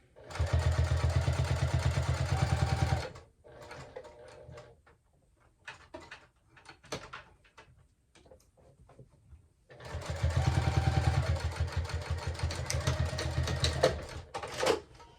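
A sewing machine stitches down the bottom of a fabric clutch in two long, loud, steady runs, with a quiet gap of scattered handling clicks and taps between them.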